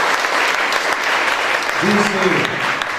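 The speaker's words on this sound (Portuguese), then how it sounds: "Um aplauso para o Tenório" Audience applause for Tenório at a FLIM 2017 literary festival panel, a steady wash of clapping through the whole stretch with a brief voice rising faintly beneath it near the end.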